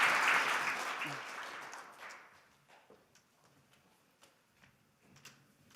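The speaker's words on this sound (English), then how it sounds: "So maybe one last warm round of applause for the people who are stepping up to these challenges and pitch today." Applause from a conference audience at a social innovation lightning-talks event bursts loudly at first, then dies away within about two seconds, leaving scattered faint claps and room noise.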